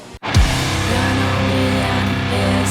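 A song, sixth track of an album, starts after a brief dropout with a low swooping hit, then plays as a loud, dense band mix with steady sustained tones and no talk over it.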